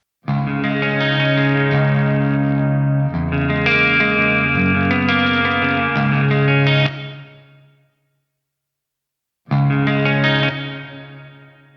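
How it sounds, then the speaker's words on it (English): A sustained electric guitar through a Soldano-style amp simulator plugin plays rich chords with reverb, ringing on and fading into a reverberant tail before a brief silence, then strumming resumes. "for a tone like that, adding some reverb will have a nice effect"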